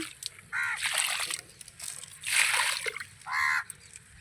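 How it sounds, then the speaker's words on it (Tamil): Water is poured onto chrysanthemum plants in a garden in three splashing bursts separated by short pauses, fairly close and with no talking. "இதுக்கும் கொஞ்சம் கொஞ்சம் ஊற்றிடலாம் தண்ணி."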